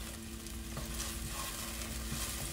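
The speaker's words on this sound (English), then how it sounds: "so we're starting to simmer here or sizzle here." Garlic sizzling in a hot pan for a beef ricotta casserole, a steady crackling hiss, close and fairly quiet, with no voices.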